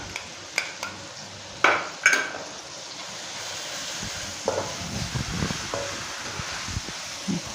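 A small spoonful of ginger garlic stirred in a frying pan for chicken kothu parotta, with soft sizzling, a few sharp metal clinks of the spoon early on, then gentle scraping.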